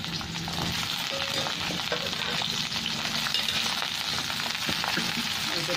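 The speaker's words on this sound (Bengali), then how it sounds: "পটলটা হালকা একটু ভেজে নেব" Pieces of pointed gourd sizzle in hot oil in a wok, lightly frying for a Bengali poppy-seed and mustard dish, with a steady, close crackle and occasional stirring scrapes throughout.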